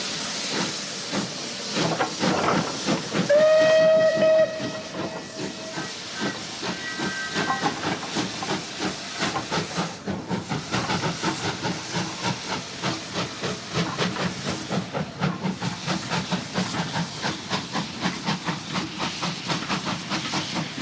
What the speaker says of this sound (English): The engine moves off to the accompaniment of the unique sounds of steam.